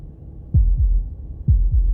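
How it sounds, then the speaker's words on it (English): Two deep double-thump heartbeats from the video game Slay the Princess, low and heavy, evenly spaced about a second apart, alone with no speech. "That was the sound of a heartbeat,"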